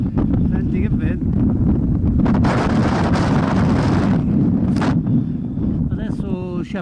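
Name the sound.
strong wind on a mountain saddle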